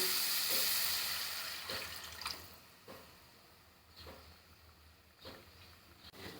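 Water is poured into a pan of frying spices for a fish curry with eggplant, a loud hissing rush at first that quickly fades to quieter bubbling, punctuated by a few light taps of a spoon against the pan.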